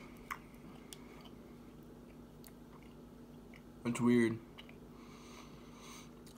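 Someone chews hard vintage taffy, soft wet mastication sounds running quietly under a brief spoken remark, with one louder burst of sound partway through.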